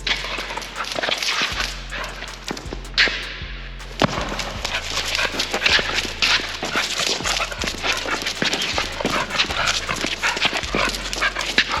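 Dogs play excitedly in the snow, with loud close scuffling, panting and thudding paws, short whimpers and yips over a constant low engine-like drone, no talking.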